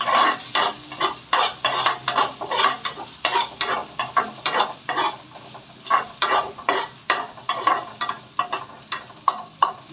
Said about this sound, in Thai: ใส่กระเทียมลงไปเลยค่ะ กระเทียมสับนะคะลงไปผัด ให้หอมนะคะ